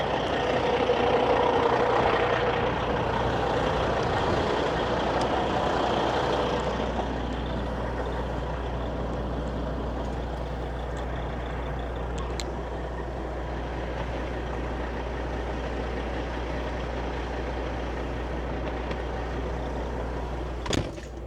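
A heavy truck on a long-haul run pulls away, its deep engine rumble steady and close for the whole stretch, with a brief hiss like an air brake and a faint beep late on.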